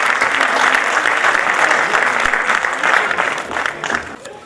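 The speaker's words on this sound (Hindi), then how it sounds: "मैं चाहता हूँ कि गुजरात के प्रदेश में हिंदी की सेवा करने वाली इस आदरणीय कवयित्री का हम लोग मुरादाबाद की जमीन पर जोरदार तालियों के साथ" A Kavi Sammelan audience in Moradabad applauds loudly for a poetess from Gujarat, with dense, sustained clapping that gradually thins toward the end.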